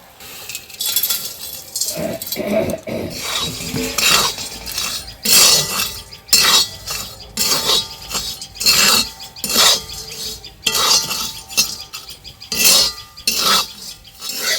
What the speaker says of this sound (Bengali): এগুলোও একটু এই শুকনো কড়াইতে নেড়ে নেব।